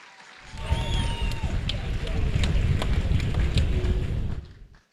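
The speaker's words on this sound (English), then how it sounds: "Please give them a big round of applause, please." Audience at a Miss World Nigeria grand finale in a hall claps and cheers, a dense sustained roar of applause building and holding loudly for several seconds before fading, with voices mixed in.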